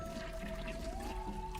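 A toilet flushes in a video game: a short, steady rush of pouring water with a faint sustained tone running underneath, heard alone.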